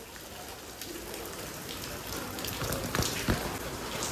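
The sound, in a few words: rain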